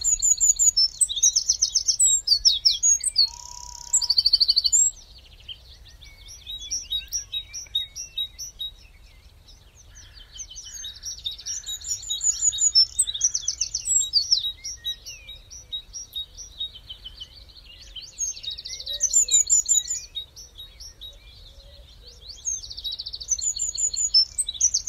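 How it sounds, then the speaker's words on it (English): A dawn chorus of willow warbler, wood pigeon and crows: bright calls and chirps repeat over a quiet outdoor background, with several birds singing on and off, some near and some more distant. "You may also have heard on this clip willow warbler, wood pigeon and crows again"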